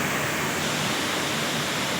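Canal water overflows during heavy rain near Semiliguda, a dense, unbroken hiss and roar of rushing water that stays steady throughout, with no voices.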